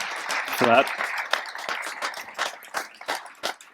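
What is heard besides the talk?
audience applause for the panel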